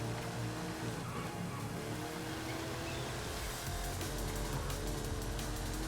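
Engine of a 1993 Ford SVT Cobra R muscle car driven in the racing game Forza Horizon 5, a loud continuous roar with rising revs and some tire noise, with no talking.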